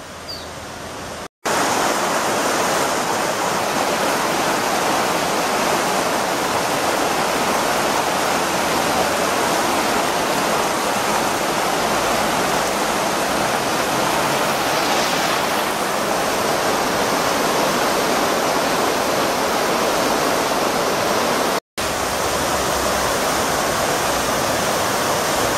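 Water rushing into the intake of a historic canal founded in 1911 on the Torondoy river, a steady loud broadband roar that holds through the whole stretch with no voices.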